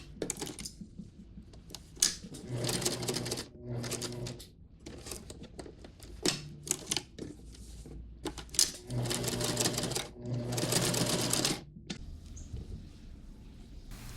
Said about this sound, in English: And now I'm just going to go around with the sewing machine.